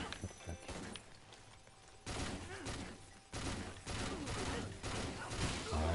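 Rapid bursts of gunfire in the video game Let It Die, with several loud volleys separated by short pauses and thumping impacts throughout.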